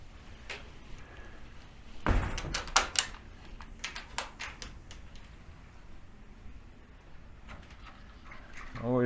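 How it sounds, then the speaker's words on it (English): Doors in an iguana enclosure area are opened, locked and unlocked, producing a cluster of sharp metallic clicks and latch knocks at close range, with a scraping rattle near the end over low background noise. "Always locking and unlocking doors as I go to make sure these guys are safe from each other and from getting out."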